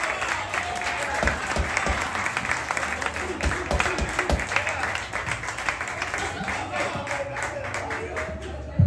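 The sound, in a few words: applause at a live salsa night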